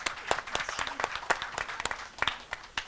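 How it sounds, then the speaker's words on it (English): Sparse, scattered handclaps from a small press conference audience at the SIIMA 2016 event in Singapore, quiet and distinct, with a few people clapping unevenly for a few seconds. "A big round of applause for Purnima ji."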